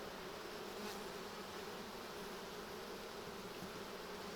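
Honey bees buzzing at a beehive during a July hive inspection, a dense, steady hum from many insects at once, continuous and unchanging, close and fairly quiet with no talk.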